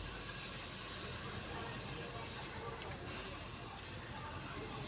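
Raw mango pieces in water begin to heat in a pot, giving a steady, faint hiss of simmering that runs unbroken throughout.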